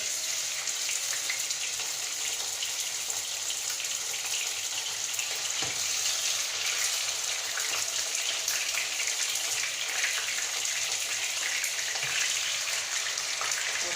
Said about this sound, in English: you just put the meat on the oil